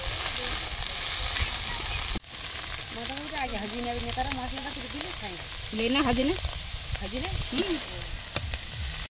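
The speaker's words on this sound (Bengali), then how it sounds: "তো বাঁধাকপি মশলা কষানো হয়ে গেছে, এবার এই বাঁধাকপি দিয়ে দিচ্ছে" Cabbage goes into spiced masala sizzling in a pan at an outdoor picnic, a constant loud hiss close by, with a voice talking over it through much of the stretch.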